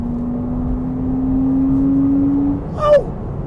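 A Porsche Cayman 987 Gen 2 engine holding a steady, rising drone while the car drives, followed by a sharp, short blip near the end after a downshift, all heard inside the cabin over road rumble.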